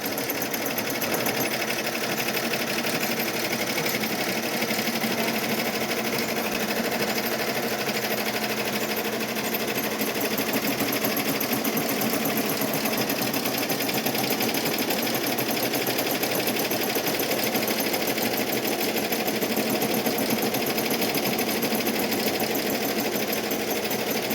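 A single-needle embroidery machine stitches pink thread on an in-the-hoop Easter gift card holder, a continuous fast mechanical rattle holding steady and loud throughout.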